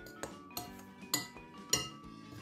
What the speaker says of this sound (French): Je vais mélanger tout ça comme ça sec.